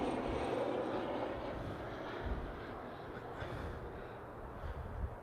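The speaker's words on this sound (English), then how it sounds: "That plane just took off fast." Airplane taking off fast on a windy day, a distant, fairly faint steady engine roar with wind noise buffeting the microphone.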